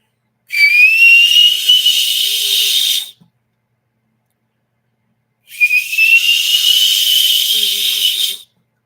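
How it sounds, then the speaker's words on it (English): Two long whistled notes from a person, each about three seconds, clear and steady with a slight rising start, separated by a silent gap. The whistling is close and loud, with no talk. "But if I was whistling, it would sound like this."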